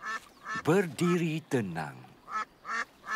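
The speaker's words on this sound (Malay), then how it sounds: "Aha! Itik!" A cartoon duck quacks several times in short bursts, clear and close, with a character's voice speaking between the calls in a Malay-language Bing episode.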